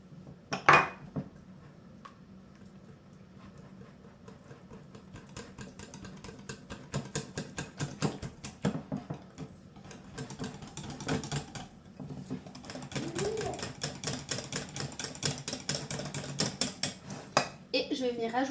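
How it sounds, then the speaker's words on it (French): A whisk clatters steadily against a bowl while mixing sugar-free, butter-free chocolate cake batter with applesauce, a busy run of quick metallic ticks and scrapes that grows denser toward the end. "Alors, je me sers du fouet, ça sera plus facile. On mélange."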